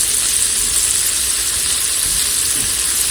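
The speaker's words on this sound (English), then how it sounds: "we're going to put that down in and let those saute for just a few minutes to get translucent" Onions saute in a pressure cooker for spaghetti carbonara, making a loud, dense, continuous sizzling hiss that holds steady from start to finish, with no talking.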